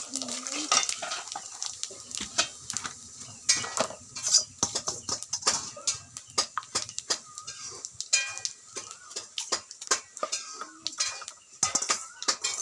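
Cumin seeds and dried red chillies fry in hot oil in a pan while being stirred, with a soft sizzle under frequent sharp scrapes and clinks of the spoon against the metal.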